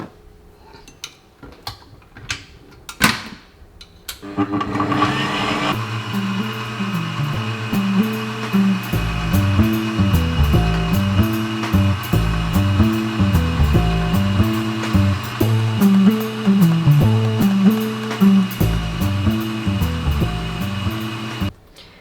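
Electric mixer beating apple pie batter as flour is added, a few clanks and clicks at first, then a loud steady whir with rhythmic pulsing as the beaters run, with no one talking.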